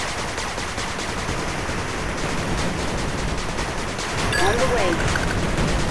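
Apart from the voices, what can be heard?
machine gun turret firing in video game 8-Bit Armies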